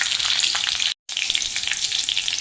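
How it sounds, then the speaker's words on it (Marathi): Chillies crackle and sizzle in hot oil in a kadhai after a mustard seed and cumin tempering, a steady bright frying hiss throughout with a brief dropout near the middle. "आता हे सर्व मी छान तेलामध्ये परतून घेते"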